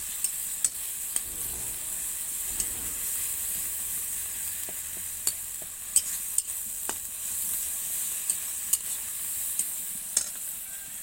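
A paste of onion, garlic, dried red chilli and nigella seeds is sautéed in a pan, giving a soft continuous sizzle with a few sharp clicks and scrapes of stirring, close and without talk.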